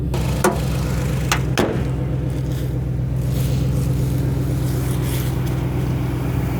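A car engine idling with a steady low rumble, constant and fairly loud at close range, with two brief clicks or knocks early on and no speech.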